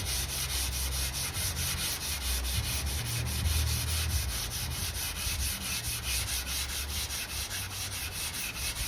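Wet sanding of the paint on a VW T25 Westfalia van with wet-and-dry paper, a continuous rhythmic rubbing and scuffing, close and steady throughout with no talking.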